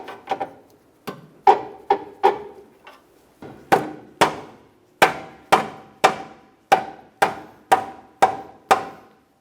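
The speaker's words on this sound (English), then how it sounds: "Once again, you can use a pry bar, and if you need to, a rubber mallet." A rubber mallet taps a front lower control arm into place on a 2003-2007 Honda Accord, a steady run of about fifteen sharp, close strikes, some quick doubles early, then evenly spaced blows.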